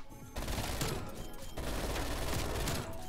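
Rapid automatic gunfire from a video game weapon, a sustained loud barrage that continues almost without a break across the whole stretch.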